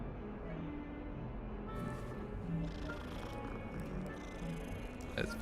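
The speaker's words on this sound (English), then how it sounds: "I gotta pet the cat" A cat in the Hogwarts Legacy video game purring while being petted, a low steady rumble running continuously under game ambience, with a brief click near the end.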